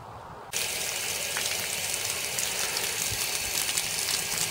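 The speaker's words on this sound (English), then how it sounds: "You want to start running the water from the faucet that's furthest from your well." Water gushing from a household faucet on a well system, starting abruptly after a brief quiet moment and then running as a steady, loud hiss without talk.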